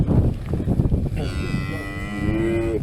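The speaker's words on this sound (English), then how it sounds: "because the cows are going down the track" Cattle moo outdoors on a Welsh farm track, a long drawn-out low bellow rising over earlier rustling and movement noise, fairly close and loud.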